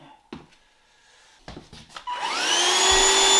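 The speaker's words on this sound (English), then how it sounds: "Every 2 weeks I just give the filter a vacuum" A few clunks and rattles, then a vacuum cleaner cleaning a filter whirs up to a loud, steady whine that rises in pitch as it reaches full speed.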